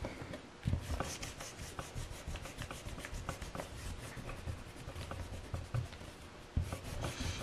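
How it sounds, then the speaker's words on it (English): A pencil eraser rubs back and forth across paper, giving a steady rapid scratchy friction with short repeated strokes, close and alone without talk. "Make sure when you're erasing, you use your other hand or something to anchor the paper with, or it will move with your eraser."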